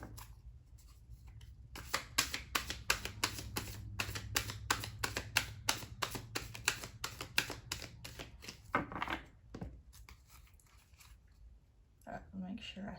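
A deck of Garbage Pail Kids trading cards is riffled and shuffled close up, a long run of rapid crisp flicks and snaps followed by a few softer handling rustles, with a voice talking underneath.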